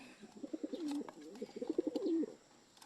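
Pigeons coo softly in a quiet setting, giving a few low, rolling throaty calls that overlap with faint rustling.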